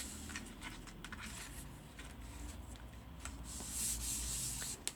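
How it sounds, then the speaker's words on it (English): An embossing buddy rubbed across vellum cardstock gives a steady, soft, close scratchy brushing that carries on for several seconds and brightens briefly near the end. "our vellum cardstock, and we're using our embossing buddy. Just going to run that over there."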